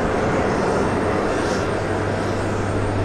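A loud, steady jet engine roar from an arriving Boeing 767 fills the whole clip, broad and rushing with a low hum underneath.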